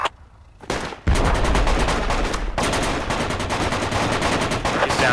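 Rapid, loud gunfire crackles almost continuously in the tactical shooter Project Reality, a sustained burst of shots after a quieter opening second.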